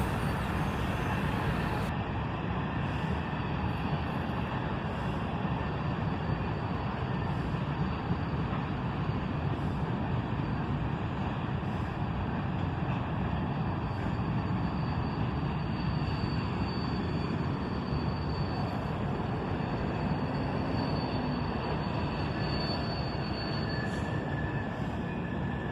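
Freight train of covered hoppers and an old Rock Island car rolls steadily past close by, a continuous loud rumble and clatter of wheels with faint squeals, no voices.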